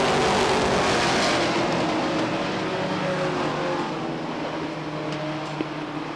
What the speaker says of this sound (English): Richard Pelton on the move in the number 27.